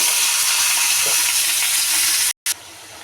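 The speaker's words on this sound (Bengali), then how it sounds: "এখন আমি পেঁয়াজগুলি ভেজে নেব" Onions frying in a pan for a Bengali home-cooked meal, a steady loud sizzle and hiss filling the whole stretch, cut off briefly near the end before resuming slightly quieter.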